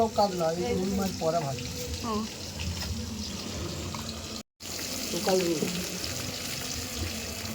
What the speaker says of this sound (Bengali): আর আমি এখন গরম গরম একটা মাছ ভাজা খাবো